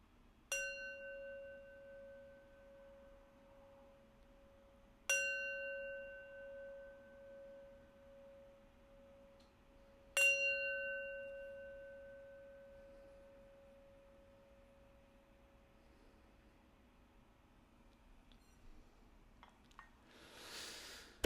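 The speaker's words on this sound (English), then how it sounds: "I'm going to close our practice with 3 rings of the bell." Three strikes of a meditation bell at the close of a mindfulness practice, evenly spaced about five seconds apart, each a clear ringing tone that slowly fades in a quiet room, followed by a brief rustle.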